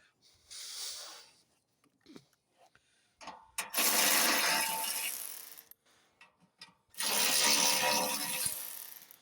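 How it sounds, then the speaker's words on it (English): A ratchet wrench loosens and removes the bolts on a Honda snowblower during a belt replacement, with two long stretches of dense, fast mechanical clicking and some scattered softer handling noises between them. "I use a ratchet wrench"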